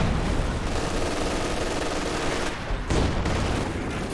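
Soviet ZiS gun artillery barrage in Company of Heroes 2, a dense, continuous rumble of overlapping blasts and booms, loud and sustained, with a brief dip before the shelling surges again.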